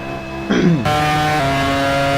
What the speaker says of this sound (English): Sounds like a sick gearbox to me.